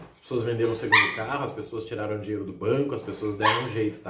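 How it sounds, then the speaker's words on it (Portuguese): A dog barks and whimpers in short yips somewhere nearby, mostly buried under a person talking continuously in the foreground. "tem um cachorro latindo aqui, infelizmente"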